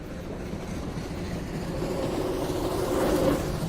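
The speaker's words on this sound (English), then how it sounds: "Let's start the train again." A moving train rumbles as a sound effect, a broad low roar that swells gradually louder toward the end.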